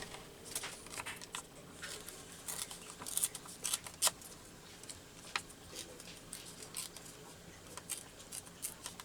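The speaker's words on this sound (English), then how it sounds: "tear this out." A page is torn out for a bird collage, giving quiet paper rips and crinkles in short irregular bursts, faint and close with soft handling noises between them.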